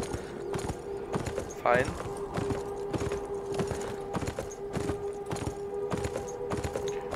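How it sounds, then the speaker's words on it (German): A horse gallops in the video game Beyond: Two Souls with steady, rhythmic clip-clop hoofbeats, joined by a brief whinny near the start, while someone talks over the scene. "Das ist wahrscheinlich dieser normale Galopp hier."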